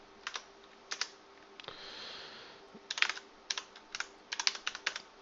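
Keystrokes on a computer keyboard while setting up a secondary domain controller, irregular clusters of crisp clicks close up with short pauses between, over a faint steady hum and no talking.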